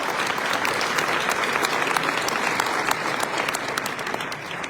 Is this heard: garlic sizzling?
no